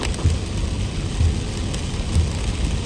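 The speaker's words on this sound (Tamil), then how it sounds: "கடுமையான மழைங்க." Heavy rain drums on a moving car during a drive in Chennai, a dense steady hiss mixed with low road and engine rumble, loud and continuous with no voices.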